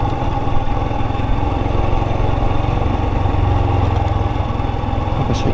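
A Royal Enfield Himalayan motorcycle engine idles close by with a steady, loud thumping rumble that runs continuously without speech.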